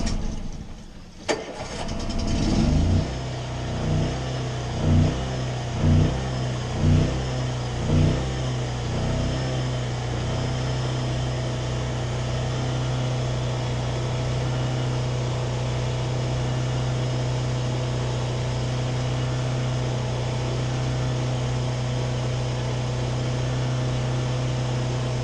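A boat engine left in winter storage cranks with several rhythmic turnover pulses, catches, and then settles into a steady, even idle that runs on alone, with a generator also running.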